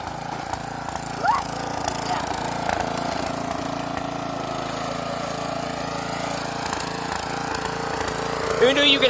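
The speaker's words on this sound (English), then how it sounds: "Who knew you could have so much fun on a lawnmower?" Snapper riding lawn mower engine running steadily close by, a constant low droning hum with occasional bumps and rattles as it is driven, a brief squeak near the start and end.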